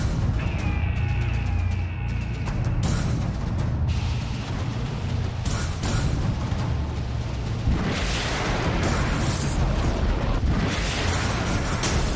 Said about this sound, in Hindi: इस माहौल में किम जोंग ने हाल ही में 6200 किलोमीटर तक मार करने वाली अपनी भारी भरकम मिसाइल